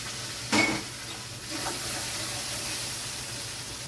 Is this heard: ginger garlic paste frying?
yes